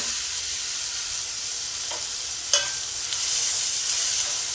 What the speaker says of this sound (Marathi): कांदा आपल्याला चांगला गोल्डन होतपर्यंत तळायचा आहे